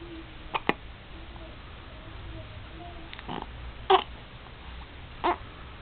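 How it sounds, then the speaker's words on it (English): A baby girl hiccups a few times, each one a short, sharp little catch spaced seconds apart over a quiet background, fairly close to the microphone. "There's her and her hiccups."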